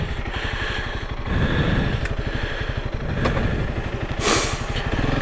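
2021 Honda CRF 300L Rally motorcycle engine putting at low speed on a riverbar trail, a close, steady thumping idle with brief throttle swells as the bike turns around.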